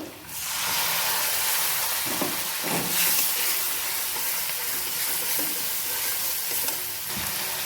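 Oil sizzles steadily in a hot pan as onion fries, with a few soft stirring scrapes breaking through the constant crackling hiss.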